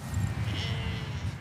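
Sheep bleating on a farm with old-style livestock, several low overlapping calls close by over a steady rumble of ambient noise, with no talking.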